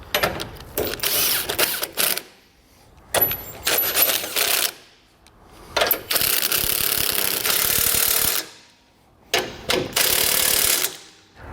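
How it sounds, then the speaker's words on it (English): Impact wrench driving trailer hitch bumper bolts on an EcoHitch hidden front mount receiver, four loud rattling bursts of one to two seconds each separated by short pauses, close and without talk. "you can tighten the bolts down"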